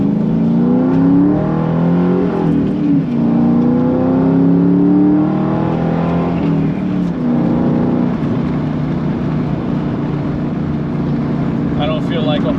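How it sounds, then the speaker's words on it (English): A 2002 Ford Mustang GT with a two-valve V8 revs through its exhaust, the engine note rising and falling in repeated throttle blips, loud and close, with a deep rumble carrying through every pull. "I don't feel like a whole lot of explanation is needed for what I just produced out of my tailpipes."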